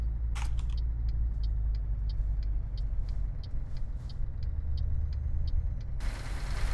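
Scania R730 truck in Euro Truck driving along, a steady low engine drone with road rumble throughout, light periodic ticking above and a brief hiss near the end.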